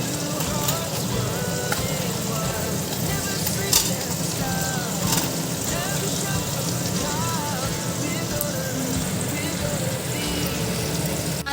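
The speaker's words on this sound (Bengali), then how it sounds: "এখন এই যে মাছ ভাজা বসিয়ে দিয়েছি" Tengra fish fry in a pan with a steady, continuous sizzle and crackle, close by, along with occasional clinks and light kitchen clatter.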